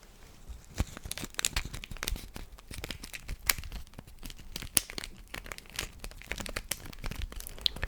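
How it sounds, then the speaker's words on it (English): A wrapped miniature present crinkles and rustles in close, sparse handling, with soft paper crackles and occasional sharper snaps. "I think it makes some nice crinkling sounds"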